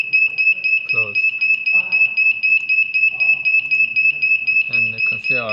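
A gas cylinder hydrostatic testing machine's high electronic alarm beeps in a rapid, regular pulse throughout, with short bursts of talking underneath.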